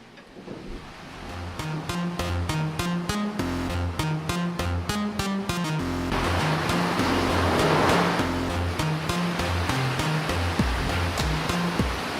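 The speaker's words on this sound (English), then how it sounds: "The water wheel is the overshoot type." An overshot water wheel turns at a flour watermill, giving a steady rush of falling water with a regular, repeating mechanical knock and creak from the wheel, continuous and fairly close, with no voices.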